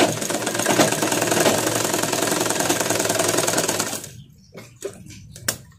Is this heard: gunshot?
no